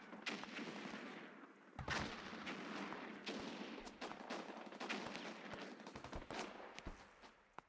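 Gunfire in a war video game rattles on nonstop, dense bursts of rifle and machine-gun shots with heavy booming blasts, loud and chaotic throughout, with no speech over it.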